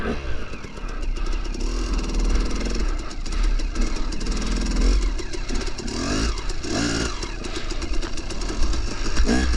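A KTM 300 two-stroke dirt bike engine revs and drones continuously up close in snow, loud and steady throughout with surging throttle.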